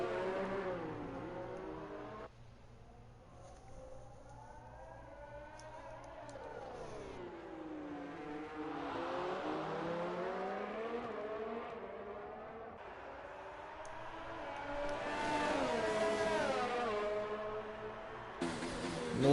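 An F1 car on a flying lap around the Singapore street circuit in a racing video game, its engine revving and shifting through gears, rising and falling steadily for the whole stretch, loud and close with no talk.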